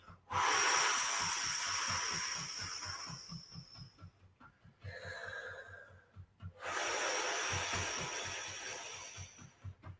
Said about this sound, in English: we're going to keep the exhalation really long